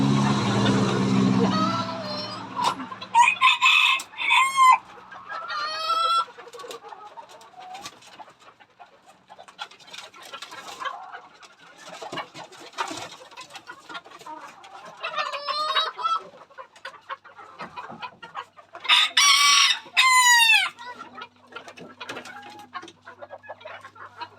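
Chickens let out to roam on a Thai poultry farm, with repeated clucking and squawking and a few bursts of crowing scattered throughout, fairly close, plus some background noise.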